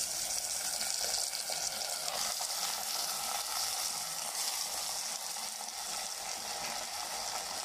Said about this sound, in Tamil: இந்த டைமில் நம்ம மட்டனை போட்டு நல்லா வதக்கலாம்